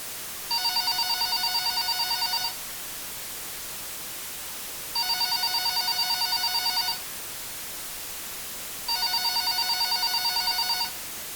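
A telephone rings over a phone line in a broadcast emergency scene: three evenly spaced, steady electronic ring bursts of about two seconds each, separated by pauses, over a constant hiss of line static, with no talking.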